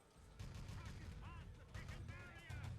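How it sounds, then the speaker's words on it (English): MP40 submachine gun fire during a competitive Wolfenstein: Enemy Territory match, faint bursts of rapid shots and crackling explosions in the background with game effects and no clear talk. "Milk's double MP40 frag."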